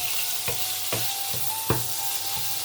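Ingredients sauté in a pan, a steady close sizzle broken by a few soft knocks of stirring at roughly even intervals, with no voices.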